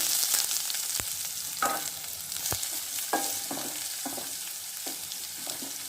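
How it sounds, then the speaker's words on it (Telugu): Onion with fenugreek and cumin seeds sizzling steadily in hot oil in a pan, a dense continuous fry with occasional sharp stirring clicks and scrapes up close, no voices. "మెంతి గింజలు, కొద్దిగా ఆనియన్స్, ఒక ఆనియన్ వేస్తున్నాను. దాన్ని కొంచెంసేపు వేపుకుందాము"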